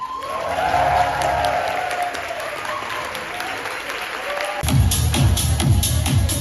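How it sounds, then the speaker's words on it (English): An event audience applauds to welcome VIPs, sustained clapping that swells louder near the end, with a voice speaking over it at first and a few cheers. "give a roaring and powerful round of applause to welcome all of our VIPs"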